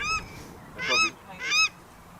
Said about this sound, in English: the paradise ducks